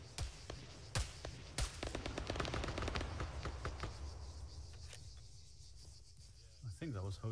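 Arma 3 combat: MX and 5.56 rifles fire in scattered single reports and short bursts at middle distance, the sharp cracks standing out over a constant insect-like chirr of background noise.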